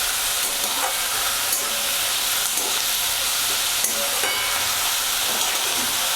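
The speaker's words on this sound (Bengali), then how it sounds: "পেঁয়াজটা লাল হয়ে ভাজা পর্যন্ত অপেক্ষা করব আমরা" Chopped onion frying in a moderate amount of oil for a Bengali mutton curry gives a loud, continuous hissing sizzle up close, scattered with small pops and spatters. No voices are heard.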